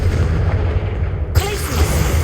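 A Confringo blasting spell going off in Hogwarts Legacy, a sudden bright burst partway through over a steady rumbling bed of battle noise, loud and close.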